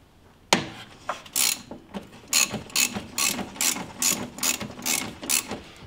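A ratchet wrench works loose a 13 mm bolt on a car, giving a close series of sharp, rhythmic clicking bursts, each quick stroke followed by a short pause.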